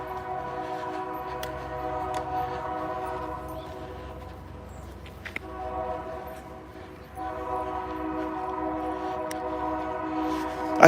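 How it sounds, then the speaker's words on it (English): A train passes at a big intersection during a morning walk, its horn sounding in long sustained blasts over a low rolling rumble, with a couple of sharp clicks between blasts. "you can hear the low rumble from the train"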